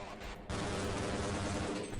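Rapid gunfire in the first-person shooter Half-Life, a dense, loud burst of shots that starts abruptly and roars on continuously after a brief lead-in of game noise.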